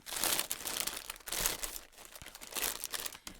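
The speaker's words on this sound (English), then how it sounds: "I've got these little scissors here that I can tear into this guy." Small scissors cutting and tearing into the crinkly plastic packaging of a yarn order, giving close, loud bursts of crumpling and crinkling in uneven waves with short pauses between them.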